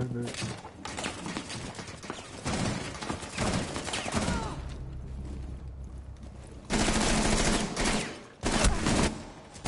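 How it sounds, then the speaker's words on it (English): Enemy gunfire in Rainbow Six Siege, loud close bursts of shots with heavy impacts cutting in and out among game noise, with a player's voice talking throughout. "they're shooting me"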